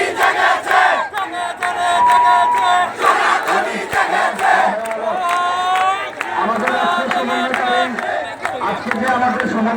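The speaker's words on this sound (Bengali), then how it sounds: "সবার একসাথে আসার সময় এবং সকলে একসাথে আমরা স্লোগান উঠতে যাবে" A protest crowd at a rally and march in Moulvibazar town chants slogans in unison, loud, rhythmic collective shouting with a leading voice and many voices answering, repeated throughout.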